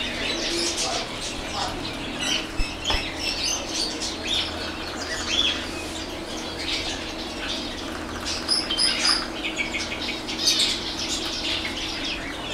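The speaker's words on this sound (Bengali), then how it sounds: "আমাদের বাংলাদেশে দেখা যায় টিয়া পাখি" Birds at a bird market in Saudi Arabia, with parrots among them, calling, chirping and cooing continuously, with flapping wings and scattered shrill calls over a busy background.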